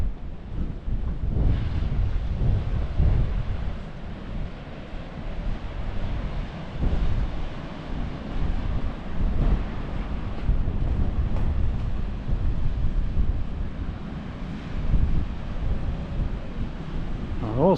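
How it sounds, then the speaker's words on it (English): Strong coastal wind buffets the microphone near the Branksome chines, a loud, continuous low roar with gusty surges and a faint wash of surf beneath, with no other sounds. "I was hoping the wind might have dropped by now, but unfortunately it hasn't."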